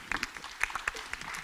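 An audience at an innovation prize launch evening gives a brief, quiet round of applause of scattered claps.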